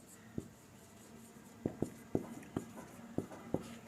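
A pen writes out a statistics solution on paper in quiet, intermittent strokes, leaving a series of soft taps and short scratches over a faint background hum.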